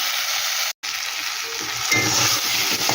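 Spices with Kashmiri chili powder fry in a pan for a mourala fish curry, giving a continuous close sizzle with a brief dropout and some stirring scrapes partway through.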